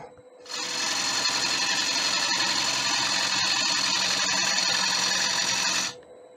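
A 15-inch acacia wood bowl being hollowed on a lathe with a Supernova 2 chuck: a loud, steady whirring tool noise that starts abruptly, holds for about five seconds, then cuts off cleanly.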